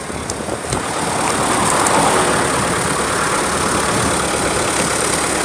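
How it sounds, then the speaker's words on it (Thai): A Kubota 8030 tractor's diesel engine idles steadily nearby, a continuous low rumble with a faint clatter, no voices, holding the same level throughout. "ตัวนี้รถไถคูปต้า8030 นะคะ"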